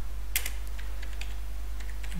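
Computer keyboard typing for a terminal command: a handful of light, irregular key clicks, a couple of firmer taps early, over a steady low hum with no speech.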